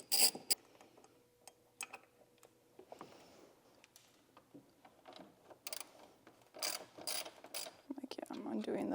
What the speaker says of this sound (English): I noticed there's only two 10mm bolts holding the top end of the radiator, so I'm just gonna quickly loosen these up